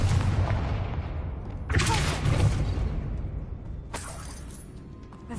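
A Confringo spell explosion in Hogwarts Legacy on PS5: two loud crackling blasts a couple of seconds apart over a dense rumbling game soundscape, each with a sharp broadband burst that slowly fades.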